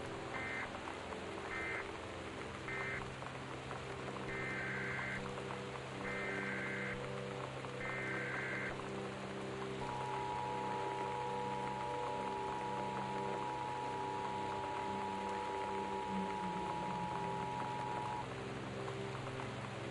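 Steady rain falls in the video game Gone Home, a constant dense hiss under repeated electronic warning tones and a long sustained beep from a weather alert broadcast.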